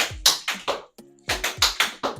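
Sharp tap-shoe strikes on a hard floor in two quick bursts of four, a hop, shuffle, hop and knock, separated by a short pause, close and crisp.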